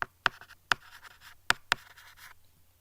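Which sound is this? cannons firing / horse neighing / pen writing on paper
pen writing on paper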